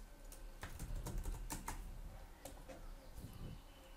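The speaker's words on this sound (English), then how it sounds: "And now type anything after the dash and it should turn red." Someone types on a computer keyboard in a quiet room, producing a quick, irregular run of soft key clicks that sounds close and fairly faint.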